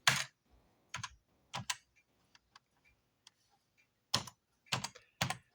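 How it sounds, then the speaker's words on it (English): A player's name is typed on a computer keyboard in quick, sharp clusters of clacking keystrokes with short pauses between them, close and crisp in a quiet room. "I'm typing the guy's name in."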